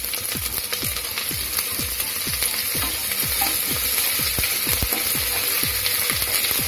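Ginger paste frying in a pan, a loud continuous sizzle with a rapid, regular series of scraping strokes from the stirring spoon, close and busy throughout.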